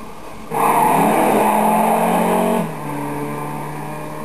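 A Mercedes engine in the racing game Midnight Club 3 Dub Edition Remix, revving loudly for about two seconds and then dropping to a lower steady drone.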